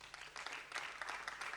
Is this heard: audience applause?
yes